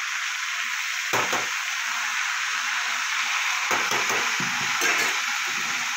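Cabbage, potato and beans cooking in a pan with a steady loud sizzle throughout, broken by a few short bursts of clatter as water goes in and the mixture is stirred.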